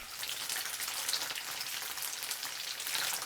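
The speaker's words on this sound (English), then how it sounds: "Fry them in vegetable oil. Leave them for 3 minutes on medium heat." Slices of firm bean curd fry in vegetable oil over medium heat, a steady, close crackling sizzle that carries evenly throughout.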